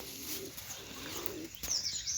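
Pigeons cooing and chirping outdoors while being let out to graze among flowering plants, a steady low murmur of calls with a brief flutter and sharper bird sounds near the end.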